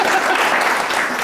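A studio audience applauds in a dense, steady wash of clapping that stays fairly loud and even throughout, with no voices standing out.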